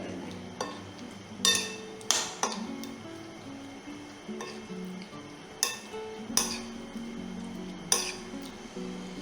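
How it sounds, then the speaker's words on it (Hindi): Chicken being mixed with yogurt and spices in a bowl, with soft stirring and several sharp clinks of a spoon against the bowl at irregular intervals, fairly quiet with no talking. "इसके बाद इन सब चीज़ों को आपको मिक्स कर देना है।"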